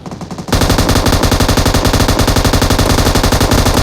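Automatic gunfire in the battle-royale shooter PUBG Mobile erupts after a brief quiet start, a loud, rapid, unbroken stream of shots hammering close up to the end.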